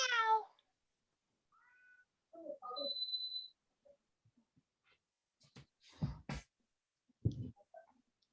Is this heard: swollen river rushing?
no